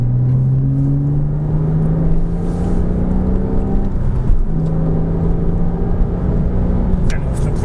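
A Ferrari accelerating hard on a racetrack after a right-hand apex, its engine a steady loud rising drone with the gears climbing, heard from onboard under a French instructor's ongoing coaching.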